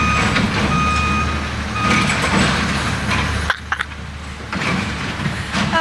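A truck reverses with steady, repeating backup beeps over a loud low engine rumble, close by and continuous, with a brief drop in the engine noise partway through.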